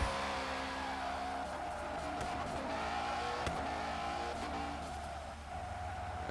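A Mustang race car warms its tires at a qualifying session, its engine droning steadily with shifting revs and a brief squeal, heard from some distance under a constant wash of outdoor noise.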